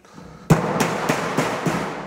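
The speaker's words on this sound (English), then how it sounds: "do a couple with a hammer." Five rapid metallic hammer blows ring out on a sheet metal duct seam, sharp and loud, evenly spaced, with a clanging resonance after each strike.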